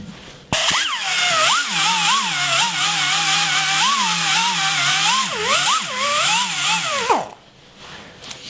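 Power tool fitted with an abrasive sandpaper pad grinding against metal, a loud, close whine that starts abruptly, wavers in pitch as pressure shifts for several seconds, then cuts off.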